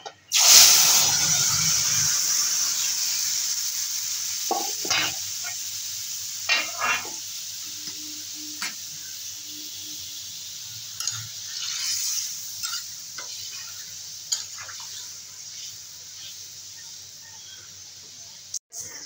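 Chopped vegetables tipped into hot oil seasoned with nigella seeds for a light papaya and katla fish curry hit with a loud burst of sizzling, which settles into a steady hiss broken by occasional clinks of a stirring spoon.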